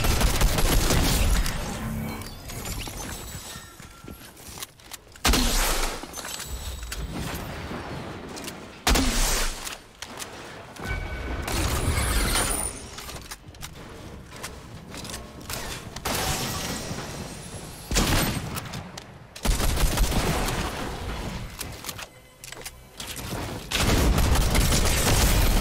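Fortnite combat with bursts of rapid automatic gunfire, loud and close, arriving in clustered volleys separated by short pauses across the whole stretch, with no voices over it.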